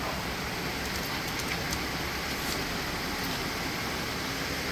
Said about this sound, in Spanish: Está cayendo una rica lluvia